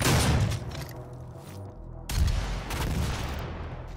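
Loud, dense gunfire from the video game DOOM, a continuous barrage of booming shots with a brief lull mid-clip before another heavy burst resumes.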